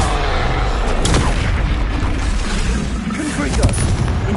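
Repeated spell blasts cast in the Hogwarts Legacy video game, a dense, loud run of booming, crackling bursts with sharper hits near the start and end, layered under continuous game effects.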